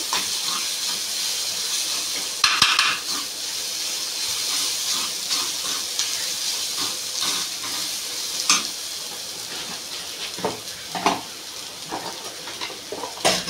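Green chillies frying in a pan, a steady bright sizzle and hiss throughout with occasional stirring scrapes and pops, close and alone without any talk.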